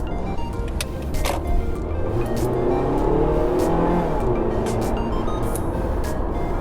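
A 2009 Toyota Corolla accelerating, engine note rising steadily from inside the cabin under road and tire noise, moderately loud and continuous with no talking.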